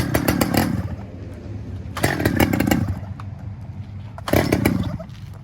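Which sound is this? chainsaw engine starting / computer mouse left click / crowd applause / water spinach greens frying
chainsaw engine starting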